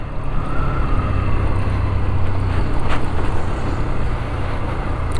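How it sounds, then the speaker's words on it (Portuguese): A Dafra Next 300 motorcycle engine-braking in first gear on a test ride, heard as a steady, loud low engine drone with broadband wind rush throughout and no talking. "Bota freio motor aqui em primeira marcha"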